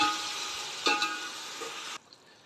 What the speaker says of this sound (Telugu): పెరుగు వేసుకున్నాము బాగా కలుపుకోవాలి